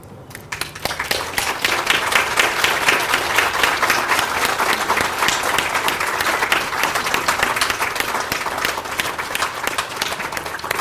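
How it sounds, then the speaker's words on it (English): A graduation audience at Perry Tech applauds the faculty and deans of education with dense, sustained clapping from many hands that begins abruptly and continues steadily throughout, with little voice beneath it. "You're going to be clapping for quite a while."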